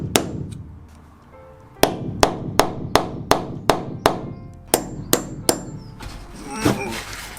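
Hammer blows ring out inside a VW Crafter van during floor removal, about a dozen sharp, evenly spaced metallic strikes at close range after an opening single hit.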